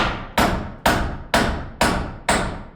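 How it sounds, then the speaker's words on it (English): Wood studs nailed together for a California wall corner: five sharp, evenly spaced nailing strikes, each a loud close crack with a quickly fading ring, regular rhythm and no voices. "and I cut the studs and the plates, and Dave started nailing together the California corner."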